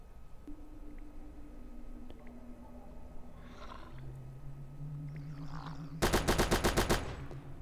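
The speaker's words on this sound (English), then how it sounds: "We have minigun." Minigun firing in the video game Nazi Zombies Portable on a custom Minecraft village map, a short loud burst of rapid shots near the end after quiet game ambience and a low hum.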